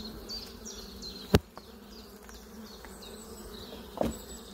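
Bees buzz steadily around a hive housing a swarm, a soft close drone broken by two sharp knocks.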